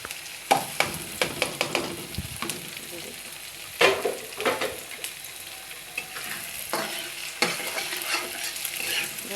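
Eggs fry in a pan for egg noodles, with onions and other fried ingredients. A steady sizzle runs underneath while a utensil scrapes and stirs in repeated sharp strokes, close and fairly loud.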